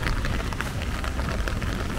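Rain falls at a waterfall in the Meghalaya hills, making a dense, steady hiss of drops with a low rushing undertone, close and continuous.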